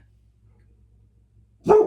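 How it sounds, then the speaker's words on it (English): A neighbor's dog gives a single loud bark close by, after a long stretch of near silence with only a low hum. "It's just the neighbor's dog barking."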